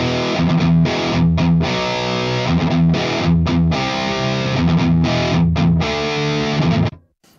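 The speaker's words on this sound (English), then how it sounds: "Let's activate the TSB, which is a free VST plugin emulating a guitar drive" Heavily distorted electric guitar chugging dense, loud palm-muted riffs with short gaps, run through an Ignite Amps Emissary amp sim, Nadir cab and TSB drive pedal plugin, ending abruptly.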